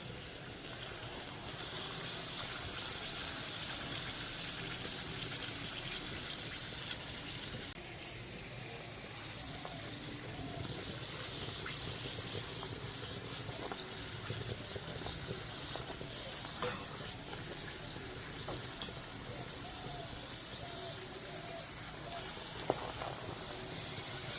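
Spinach-stuffed palak kochuri deep-frying in hot oil, a continuous fine sizzle and bubbling crackle, steady and fairly quiet over a long stretch, with no talk.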